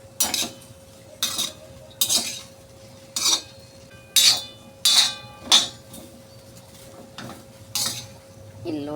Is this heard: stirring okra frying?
yes